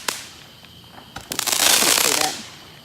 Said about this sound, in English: That is my neighbors right across the street right now, shooting off fireworks.